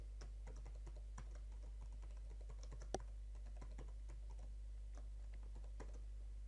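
Login credentials being entered on a computer keyboard, a steady run of light key clicks with one firmer tap midway, set against a constant low electrical hum.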